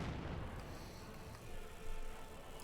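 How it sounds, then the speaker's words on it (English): A grenade explosion in Company of Heroes 2 as a single rumbling, low blast that fades into a quieter sustained roar, faint and somewhat distant. "only one grenade tossed"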